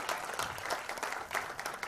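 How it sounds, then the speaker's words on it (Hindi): Audience applause at a ghazal album launch event, a dense burst of clapping from a crowd throughout, loud and steady with no talk over it. "तालियां एक बार।"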